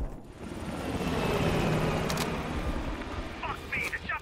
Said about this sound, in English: Fuck me, the chopper got away.